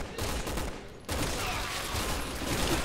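Gunfire in the co-op shooter Resident Evil 6 on PS4: a dense, continuous fusillade of rapid shots, loud and close, with a brief dip partway through.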